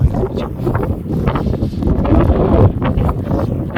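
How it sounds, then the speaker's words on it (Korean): Strong wind gusts across a rocky hill above the sea near a fishing village, roaring steadily and loud against the microphone with a low rumbling buffeting and no talk. "바위산이 바람이 무척 많이 붑니다."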